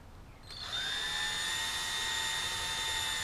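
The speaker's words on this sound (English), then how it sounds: "And we just kind of drill." Power drill with a 5/16 bit boring a hole through wood during a stealth fender installation, spinning up quickly to a steady whining drone close by, with no talk.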